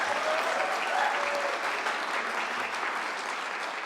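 Dense, steady clapping from an audience at a Bucheon Geumgang Village redevelopment launch ceremony, continuing evenly for several seconds with a few faint voices beneath.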